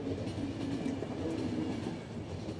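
A train rolls past in the video game The Final Station, a steady rumbling roar with faint rhythmic clatter of the cars, moderately loud and continuous with no talk over it.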